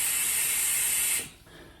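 A vacuum brake bleeder draws fluid through the brake system of a Yamaha YZF1000 Thunderace motorcycle, giving a loud steady airy hiss that cuts off abruptly after about a second, leaving a faint quiet tail.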